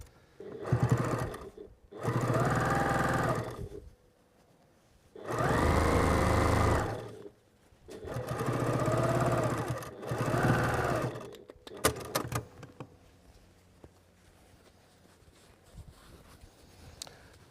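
A sewing machine stitches a fabric base into place in several runs of a few seconds each, a close whirring hum that starts and stops, followed by quieter handling sounds.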